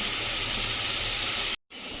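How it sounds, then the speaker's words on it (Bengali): Prawns frying in a pan at home, a loud, steady broadband sizzle and hiss that holds evenly, cutting out briefly near the end before resuming. "আর এইদিকে তো চিংড়ি মাছ ভাজাটা হোক"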